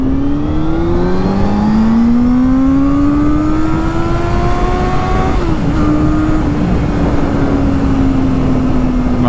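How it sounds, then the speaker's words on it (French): A Honda Hornet 600 motorcycle engine revs up loud and close, its pitch climbing steadily over several seconds, dipping briefly, then holding high and steady, with no voices. "Alors je vais pas pouvoir accélérer jusqu'au rupteur non plus, mais juste pour que vous rendiez compte et que vous entendiez ce son."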